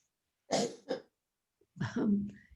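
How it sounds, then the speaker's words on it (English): During a yoga class, two quick harsh coughs close to the mic, a pause, then a longer throaty cough with a rasping, voiced tail. "Breathe into your lungs and cough."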